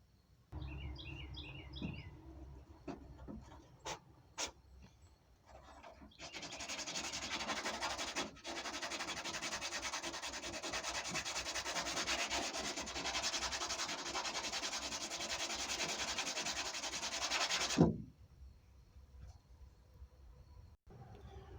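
Steady abrasive rubbing of sandpaper on part of a guitar during a setup, a continuous close scratchy hiss lasting around ten seconds, preceded by a few knocks and faint chirps and ending abruptly.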